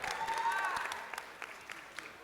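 Brief applause from students at a school assembly, with a short burst of clapping and a few voices at first, then thinning into scattered individual claps, fairly faint and roomy.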